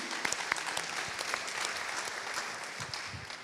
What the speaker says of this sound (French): Oui, on peut applaudir, hein, c'est un propos qui fait du bien